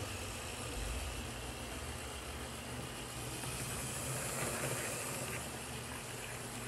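A rebuilt Tyco Power Torque slot car motor runs with a steady, continuous whirring drone, fairly close and even in level throughout, with no voices.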